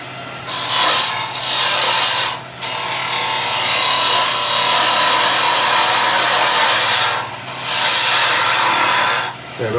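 Wood turning lathe taking a roughing cut while turning a nativity scene piece, a loud continuous broadband rasping scrape with brief drops in level around two and seven seconds where the tool lifts off.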